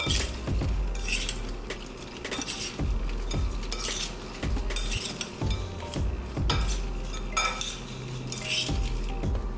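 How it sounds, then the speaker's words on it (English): Garlic shrimp with dry pepper flakes stirred in a pan, a utensil clinking and scraping against the metal in a steady, rhythmic series of sharp taps over a faint sizzle. "Give that a quick mix, just like so."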